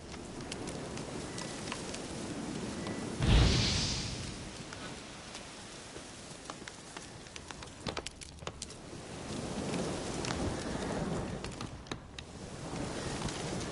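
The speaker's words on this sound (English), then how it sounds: "Storm, damn it." Steady rain hisses through a thunderstorm in The Witcher 3, with a sudden low thunder crack early on and scattered patters over the continuous wash.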